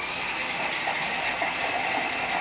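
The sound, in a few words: cold tap water rinsing out cans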